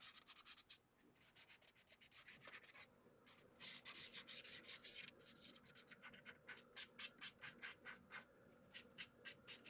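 Medium-coarse Dollar Tree sandpaper rubs across a wooden jewelry box in fast, close back-and-forth strokes, first continuous and then a steady series of short scratchy passes, quiet and with no talk.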